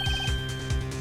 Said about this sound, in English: I heard a phone ring just now.